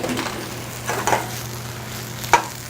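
Vegetables sautéing in a pan give off a soft, steady sizzle, with a few louder stirring and scraping bursts and one sharp utensil knock near the end.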